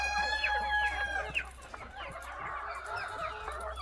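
Japanese bantam chickens in a home poultry yard, with a couple of faint, distant crowing and clucking calls over a steady low hum and background murmur.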